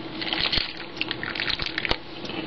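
A pudding mixture pours into a pie crust for a Jello pie, a soft, wet, liquid trickle with a few small splashy peaks, close and alone with no talking.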